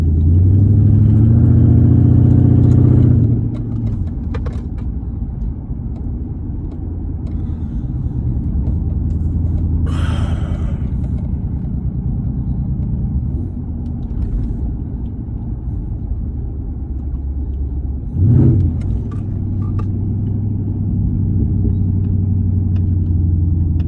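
A 2012 Dodge Charger SRT8 drives along with a steady low exhaust rumble, a brief loud surge at the start and a short swell later; no one speaks.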